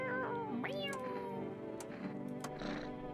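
A cat in the video game No I'm Not a Human meows close by in several drawn-out, rising and falling cries, with other faint sounds under them.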